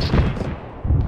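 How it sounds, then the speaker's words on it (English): Autocannon fire from a vehicle in the military video game Arma, heard as a couple of heavy, booming bursts with a low rumble, the second arriving near the end. "Or whatever that is, autocannon."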